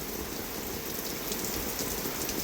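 Steady, dense monsoon-style rain in a village pours down without a break, a constant hiss of drops hitting surfaces close by.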